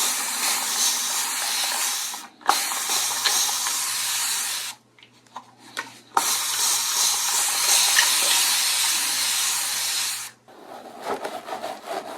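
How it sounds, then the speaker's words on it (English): Broad hissing anti-itch spray in long bursts, close to the mic, with short pauses and a couple of soft clicks between sprays. "It's just an anti-itch spray."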